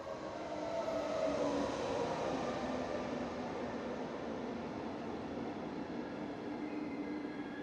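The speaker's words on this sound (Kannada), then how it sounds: "ಸೊ ಟ್ರೈನ್ ಬಂತು, ಹೋಗ್ತಾ ಇದ್ದೀವಿ." A train arrives and runs past at a station during a day trip to Saxon Switzerland National Park, a continuous rolling rumble that swells early, then holds steady and fairly distant.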